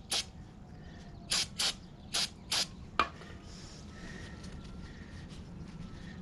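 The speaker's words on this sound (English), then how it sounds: "spray it out with a little brake clean." Brake cleaner sprayed on a 2016 Harley-Davidson Street Glide FLHXS hydraulic clutch part, five short, sharp aerosol bursts in quick succession followed by a metallic click, close and alone.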